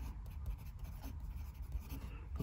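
Fountain pen with a medium nib, a Diplomat Excellence A2 filled with Standard Bindery Road Trip ink, writing on paper: continuous close scratchy strokes with small rhythmic pulses, faint and alone.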